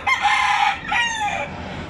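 A rooster crows loudly and close, two drawn-out calls back to back, with a faint hint of other chickens around.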